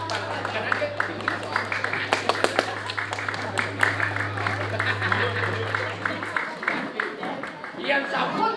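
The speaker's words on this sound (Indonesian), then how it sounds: "terus tepuk tangan, kanan ke sini." A dense stretch of audience clapping at a Balinese drama gong performance by a troupe, steady and fairly loud, with a low hum underneath and voices talking over it; the clapping thins out toward the end.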